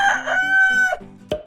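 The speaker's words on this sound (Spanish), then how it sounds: "Este es el gallo y el gallo hace" A farm rooster crows once, loud and close, in a single drawn-out cock-a-doodle-doo call that ends with a short sharp note.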